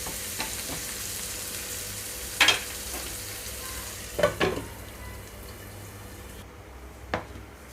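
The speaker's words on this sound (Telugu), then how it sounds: "ఉల్లిపాయలు పచ్చిమిరపకాయలు ఇక్కడ దూరగా వేగే వరకు వేయించుకుంటున్నాను." Chopped onions and green chillies fry steadily in a pan with a continuous, fine sizzle, punctuated by a few sharp clinks and scrapes of stirring.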